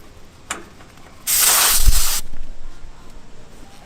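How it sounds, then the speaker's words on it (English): Freon refrigerant squirts from an AC gauge hose fitting as it is attached, a sudden loud hiss lasting about a second, fading into a softer lingering spray, with a faint click just before. "sometimes the freon will squirt like that with a little cloud"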